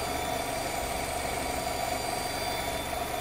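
A Nissan car's engine idles steadily, a continuous mid-low hum with a faint high whine running through it, close and even throughout with no talking.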